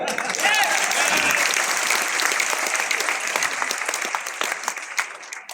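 Audience applause at a motivational talk fills the room, steady and dense from start to finish, many hands clapping close together and tapering slightly toward the end.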